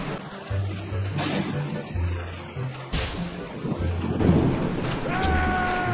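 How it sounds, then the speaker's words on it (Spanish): Thunder rumbles and cracks over steady rainfall in a video game, with deep low booms recurring through a continuous wash of rain and a brief rising synthetic tone near the end. "Estos son truenos."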